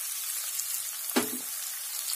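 Mixed vegetables for a sweet, sour and spicy pickle fry in a pan, a soft continuous sizzle with one brief louder stir or clatter midway, close and without talk.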